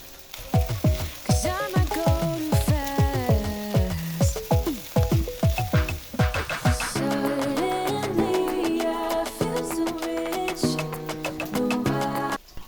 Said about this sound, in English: The main secret here is to cook on high heat. And lastly, I'm throwing in some rice that I had boiled earlier on.